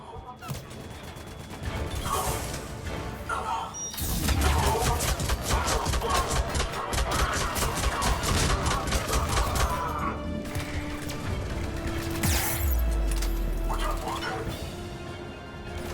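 Grenade blast and rapid gunfire from a Mass Effect 3 firefight on Insanity difficulty, a dense, sustained barrage of close shots and crashing impacts with a voice speaking underneath.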